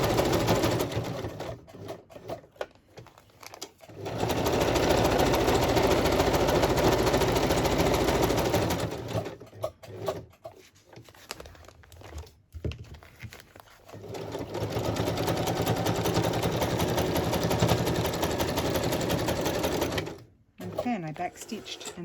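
Sewing machine stitching and back stitching a boho journal cover, with loud sustained whirring runs separated by short pauses and quieter handling, and a voice talking at times between the bursts.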